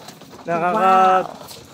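A red checker racing pigeon gives a close, clear coo lasting under a second, with a soft rising and falling tone against faint background noise.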